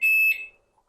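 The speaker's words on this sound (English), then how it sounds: "Why are you beeping, my dear?" A single loud electronic beep from an ultrasonic parking proximity alert sensor, a steady high tone lasting about a third of a second, then fading, with a faint blip after.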